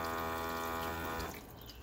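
A faucet fed by a USB rechargeable pump in a small cargo-trailer camper runs steadily with a humming pump tone underneath, then the flow cuts off and only a faint watery trickle remains.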